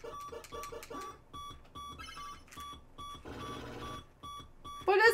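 An NES video game gives off a regular, alarm-like electronic beeping, short repeated tones in a steady rhythm amid other chiptune effects, with brief louder bursts of game sound.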